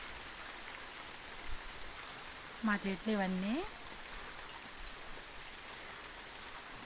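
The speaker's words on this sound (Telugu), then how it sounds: "వర్షం పడుతుంటే చాలా కూల్గా ఉంది" Steady rain falling over a residential colony lined with trees, an even wash of soft patter throughout, with a person speaking briefly partway through.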